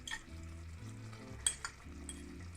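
Tuna sizzles and fries as it hits a hot oiled pan while cooking pasta al tonno, a steady crackling hiss with a few sharp clinks of utensil against the pan.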